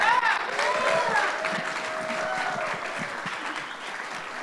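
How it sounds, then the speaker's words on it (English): A crowd claps and cheers at a furry convention's opening ceremony, loud and close at first and then easing slightly, with whoops and voices mixed into the clapping. "Let's get a big round of applause and start kicking off Furpoc."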